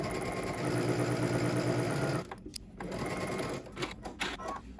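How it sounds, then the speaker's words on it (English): A sewing machine hums in a steady rapid stitching run for about two seconds, then stops, leaving quieter intermittent handling noises. "we're going to head to the sewing machine"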